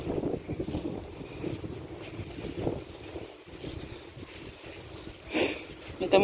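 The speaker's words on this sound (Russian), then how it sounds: "Слышно, да, ветруган?" Strong gusty wind in a lane near a shore buffets the microphone in rushing surges that swell and fade, with a voice talking underneath.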